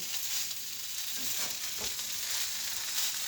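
Pork fried rice sizzles steadily in a pan, a close, even hiss with a few soft scraping stirs partway through.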